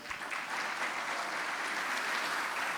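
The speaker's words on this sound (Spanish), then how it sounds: "un fuerte aplauso para los tres" A panel audience applauds the three presidential candidates, a continuous wash of many hands clapping evenly at moderate volume throughout.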